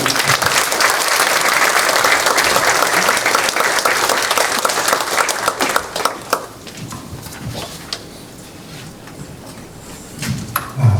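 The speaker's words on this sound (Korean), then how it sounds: "뜨거운 박수로 모시겠습니다" A crowd breaks into loud, sustained applause for a candidate at a church denomination's election policy debate, gradually fading to scattered clapping near the end.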